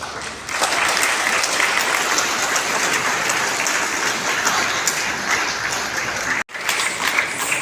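Sustained applause from a crowd at a music performance held in a refugee shelter, dense steady clapping that runs nearly the whole time, breaking off for an instant before resuming.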